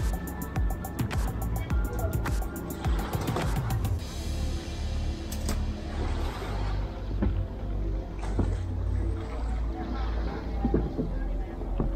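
A passenger boat at the Boracay port rumbles with a low engine drone under wind buffeting the microphone, and voices sound faintly in the background as passengers board.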